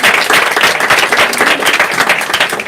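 Steady applause from an audience at a literary café gathering, dense and continuous clapping that stays loud throughout, with no speech over it.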